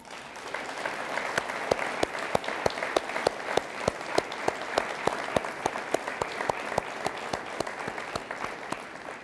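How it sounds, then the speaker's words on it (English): Audience at a firefighter training academy graduation applauding steadily, a dense, even wash of clapping with sharp individual claps standing out, sustained throughout without talk. "We'd love to give you a hand."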